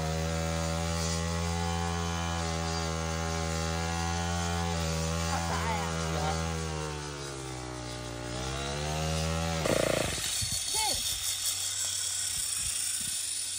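Saw, likely a chainsaw or power saw, cutting at Moon Lake in Canada: a loud steady engine-like drone with harmonic pitch shifts for about ten seconds, then stopping abruptly into brief clatter and rustling.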